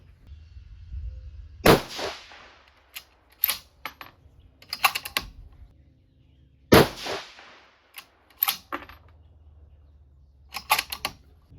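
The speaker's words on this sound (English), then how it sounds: "Okay, first shot here." Two sharp rifle shots from a 6mm Dasher rifle at a shooting range, spaced about five seconds apart, each followed by clicks and clatter of handling, with no talking.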